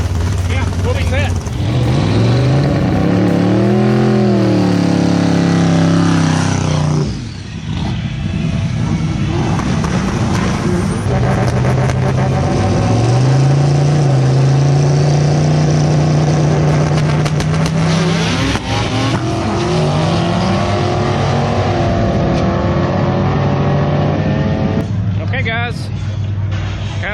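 A turbocharged LS-powered drag car on a no-prep track builds loud, sustained engine drone with rising and falling revs and boost, continuous and close throughout, with crowd chatter and talk mixed underneath.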